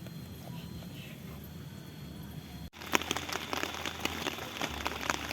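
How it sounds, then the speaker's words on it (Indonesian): Light rain patters softly on a tent, the scattered drops growing more frequent after a brief pause. "Sudah mulai rintik-rintik lagi nih, kayaknya mau hujan lagi."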